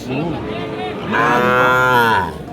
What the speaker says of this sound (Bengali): খামার উপযোগী শাহিয়াল জাতের ষাঁড় বাচ্চাগুলি